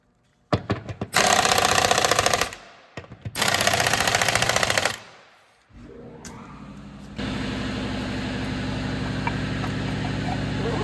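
An impact wrench tightens bolts on a Hyundai Santa Fe during differential and axle seal work, with two loud rattling bursts, a winding-down whir, then a steadier mechanical drone, all close and without talk.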